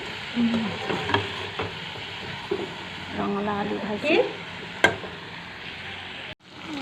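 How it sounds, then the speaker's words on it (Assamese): Steady sizzling of potatoes frying in a pan, with occasional scrapes and clinks of a utensil stirring. "ইফালে মই ৰান্ধি আছোঁ ৰঙালাও আলু ভাজি।"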